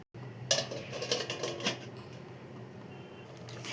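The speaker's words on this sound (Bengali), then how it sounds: "এবার এটাকে আমি ঢাকনি দিয়ে ঢেকে দিচ্ছি" A metal lid settles onto a khichuri pot, giving a faint clatter and a few light rattling clinks before it goes quiet.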